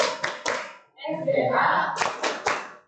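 Children in a classroom do a rhythmic clap game on production factors: sharp, close hand claps in quick groups, broken by a short burst of children chanting together before the claps resume.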